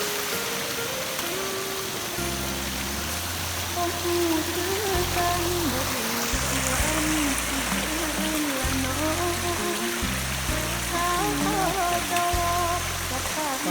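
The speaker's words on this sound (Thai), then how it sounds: "คือชั้นที่หนึ่งนะครับน้ำตกสวนสวรรค์" A waterfall at Thai Garden Hill Resort on Koh Chang gives a steady, loud rushing roar like heavy rain throughout, with low stepped musical tones running underneath.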